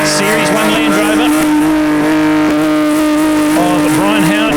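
A BMW V12 engine fitted to a Series 1 Land Rover revs hard and loud in an off-road race, its pitch rising and falling with throttle changes, with commentary voices faintly underneath.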